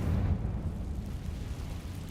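A Confringo fire spell from Hogwarts Legacy erupts in a deep rumbling blast that dies away into a low, sustained roar, loud and close, with no voices.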